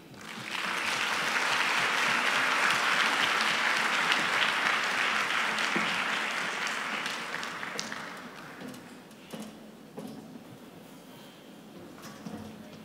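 A conference audience applauds after a speech on gender equality: loud, dense clapping that holds strongly for several seconds, then thins and fades to scattered claps and room noise.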